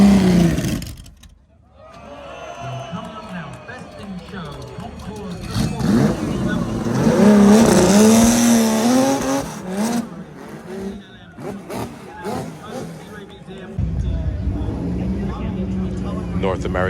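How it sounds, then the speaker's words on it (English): Jeff Gordon's race car drives past at the Amelia Island car show, its engine roaring as it rises and then fades, mixed with crowd noise and talk. "Jeff Gordon's car in motion"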